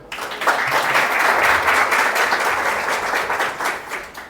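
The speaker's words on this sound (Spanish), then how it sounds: "Aplauda ao Senhor" A church congregation claps steadily and loudly in praise for several seconds, a sustained wash of many hands with faint voices beneath.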